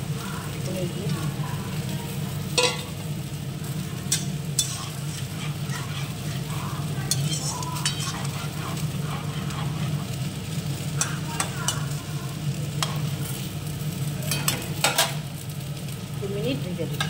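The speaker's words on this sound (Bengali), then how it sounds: "এইবার আমি পনির দিয়ে দিই।" Paneer frying in a pan, a steady close sizzle with scattered crackles and stirring clinks, while a person talks intermittently over it.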